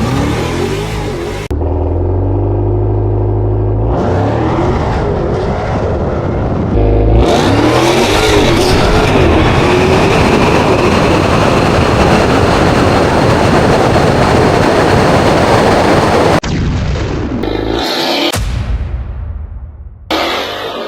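A Dodge Demon 170 fitted with a new replacement engine revs hard and loud, its roar swelling and holding for long stretches, cutting out in short breaks, then bursting back near the end.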